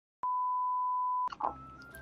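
A phone call starts with a single steady electronic beep held for about a second, clean and loud, then cuts off into line noise and a brief muffled voice.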